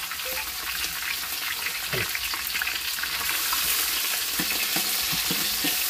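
Garlic paste frying in oil in a pot over a wood-fired clay stove, a steady close sizzle with occasional stirring scrapes throughout.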